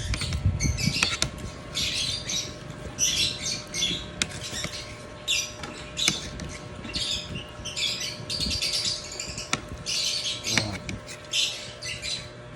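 Repeated high chirping calls from a bird begging, busy and fairly close, with rustling and clattering household noise underneath.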